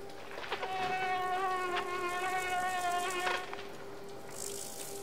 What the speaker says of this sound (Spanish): vamos a ver el patrón de movimiento del mosquito